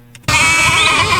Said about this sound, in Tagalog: Ang daming kambing, guys.